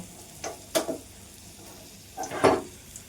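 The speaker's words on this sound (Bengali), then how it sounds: "এই ডালটা এখন আমি এই ফোড়নের মতো দেব" Boiled, thinned lentils are tipped into a hot spice tempering, giving two short loud bursts of sizzle with a smaller hiss after, fading quickly in a quiet kitchen.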